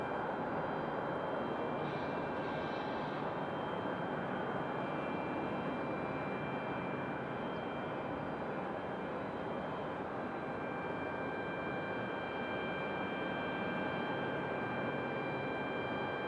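A United Boeing 737 jet touches down at Raleigh-Durham airport after a short flight from Washington Dulles. A steady, fairly faint engine drone and a broad rushing noise fill the whole stretch, with a thin high tone on top.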